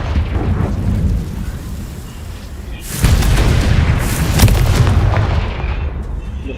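A Confringo blasting spell fired in the Hogwarts Legacy video game makes a loud booming explosion. A rumble builds, then a sharp burst around the midpoint is followed by a sustained roaring blast that slowly fades.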